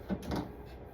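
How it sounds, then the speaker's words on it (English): A small drawer at the bottom of an old refrigerator slides open, a brief, quiet scrape and soft knock close by, with no talk over it. "so then I have this little drawer down here"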